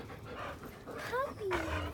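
A puppy panting close by in quick, soft breathy bursts, with a few small whimpering squeaks near the end and light background noise.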